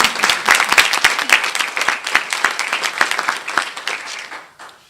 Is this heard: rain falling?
no